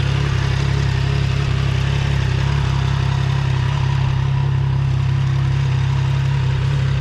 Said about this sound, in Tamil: Inline 3 sound.